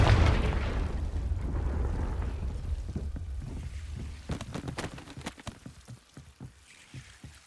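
A Confringo fire spell blast in Hogwarts Legacy, starting with a loud deep roaring burst that fades into a scatter of sharp crackling impacts and debris clatter over several seconds, with no speech.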